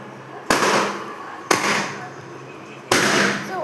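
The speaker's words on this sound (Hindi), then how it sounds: "सुबह में हम लोग ये बलून्स फोड़ रहे थे" Three sharp, loud balloon pops at irregular intervals, each followed by a rustling, crackling tail, with quiet background noise between them.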